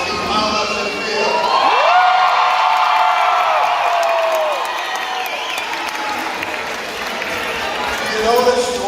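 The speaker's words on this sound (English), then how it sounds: "You notice you always get a bigger cheer from family and friends and the graduates." Family and friends cheer and applaud for the Commerce High School class of 2019 at their graduation, a broad, steady wall of crowd noise lasting several seconds with a rising whoop-like tone, fading slightly and swelling again at the end.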